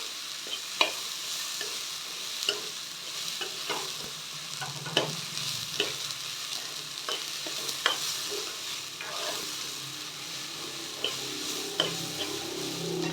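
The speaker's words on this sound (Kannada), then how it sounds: "ಇದನ್ನ ಎಣ್ಣೆಲಿ ಸ್ವಲ್ಪ ಫ್ರೈ ಮಾಡ್ಕೋಬೇಕು" Mixed sprouted beans fry in hot oil in a pan, with a steady sizzle broken by regular clinks and scrapes of stirring, close up and with no talking.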